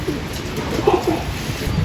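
Racing pigeons arriving at a loft coo softly nearby, a few low throaty calls over a faint background hum.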